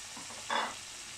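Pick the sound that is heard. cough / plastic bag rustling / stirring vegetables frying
stirring vegetables frying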